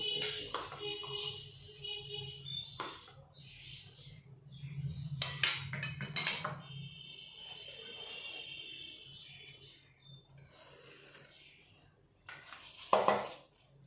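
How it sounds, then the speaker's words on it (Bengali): Egg beaten in a bowl, heard as faint, intermittent clinking and tapping of a utensil against the bowl with quiet gaps between bursts and a louder clatter near the end, no talking. "এবার আমি ডিমটাকে গুলবো"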